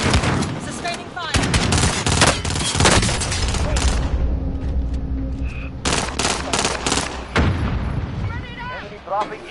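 Sustained machine gun fire rattles in long bursts during a multiplayer shooter game, with loud, dense volleys and scattered booms, under a voice giving callouts.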